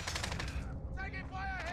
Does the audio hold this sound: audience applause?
no